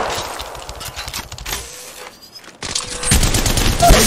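Bursts of rapid automatic gunfire in the mobile battle royale game Apex Legends Mobile, loud and close, with a brief lull in the middle before a heavier, sustained burst resumes.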